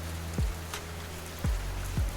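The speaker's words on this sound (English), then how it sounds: "It's raining even more." Steady hiss of cartoon rain falling, with a few soft downward-swooping drip plops recurring at intervals over the constant wash.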